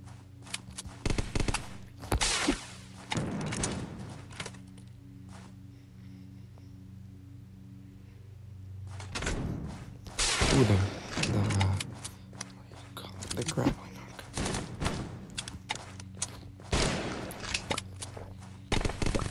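Gunfire and RPG blasts in the online battle royale game Zombs Royale, repeated sharp bursts and rattling volleys, some loud and some fading, mixed with a player's talking.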